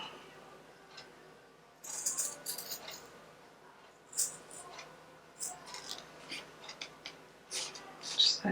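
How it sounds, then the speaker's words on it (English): Scissors trimming paper for a flower fairies round junk journal, with a run of small crisp snips and rustles, close and quiet, starting after a short pause and continuing irregularly. "I just want to trim off a little bit of this"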